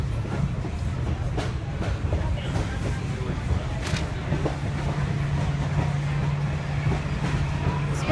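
Excursion train of the Great Smoky Mountain Railroad rolling on the rails through the Nantahala Gorge, giving a steady low rumble with occasional faint clicks and squeaks, continuous throughout and heard from aboard.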